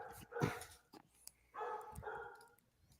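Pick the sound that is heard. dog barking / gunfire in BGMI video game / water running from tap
dog barking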